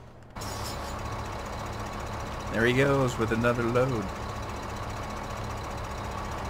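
Vehicle engines idle in Farming Simulator 2015, a steady low mechanical drone running the whole way through with someone talking over it partway.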